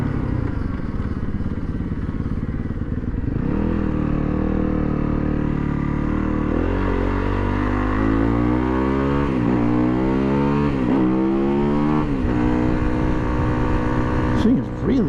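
A 2019 Yamaha WR250F dirt bike ridden and revved, its engine loud and close, climbing and falling in repeated rising pitch sweeps through gear changes, with a rider's voice talking over it at times.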